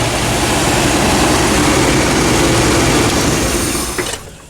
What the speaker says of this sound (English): Turn that idle speed down a little bit now that we've got our proper base timing